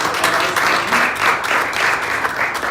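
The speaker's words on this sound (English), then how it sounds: "Can we give another round of applause to our wonderful praise band?" Church congregation applauding the praise band during a Sunday service, loud, full clapping in surging waves that swell and ease in a steady rhythm.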